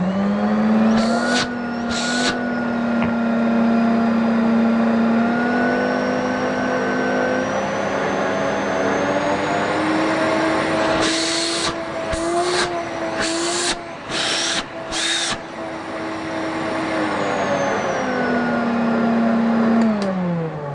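An old German vacuum cleaner set to 350 watts runs with a loud, steady motor whine for the whole stretch, its pitch shifting slightly, with several brief sharp bursts of added noise along the way.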